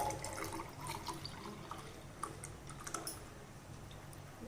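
Milk poured into homemade rose syrup made with paneer rose petals, a soft continuous liquid splash and trickle with faint clicks, close and fairly quiet, no voices.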